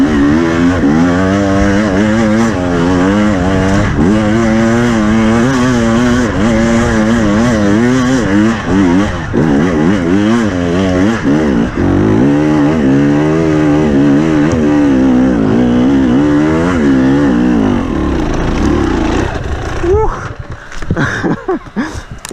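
A 2021 KTM 300 TPI two-stroke dirt bike engine revs loudly and nonstop through a ride, its pitch climbing and falling with throttle, up close and dominant before trailing off near the end.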